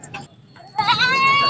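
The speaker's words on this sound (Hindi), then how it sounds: "ये भाई एक बकरी है इनके पास, सिंधी नस्ल की, और दूध वाली बकरी है" A Sindhi breed dairy goat at the Korangi livestock market in Karachi gives one loud, drawn-out, wavering bleat close by, after a few softer bleats and a murmur of background noise.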